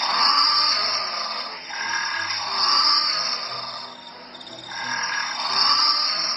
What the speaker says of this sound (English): It's all fun and games until you find out what a penguin trying to pipe sounds like.